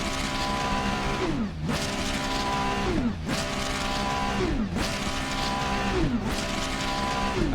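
A race car engine in the Assetto Corsa Competizione sim drones in steady rising pitch sweeps that repeat about every one and a half seconds, like gear changes under acceleration, loud and continuous with no talk.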